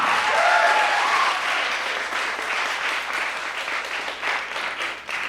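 An audience at a poetry slam gives a poet loud, sustained applause with cheering. The clapping is dense and close and thins a little toward the end.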